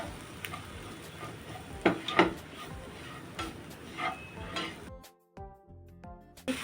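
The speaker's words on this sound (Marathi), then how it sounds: "आता आपण मसाले घेतले ते टाकू मिक्स करूया" Spices are stirred into golden-brown fried onions for mushroom masala: a quiet sizzle with a few spoon scrapes and taps on the pan, then it cuts out briefly near the end.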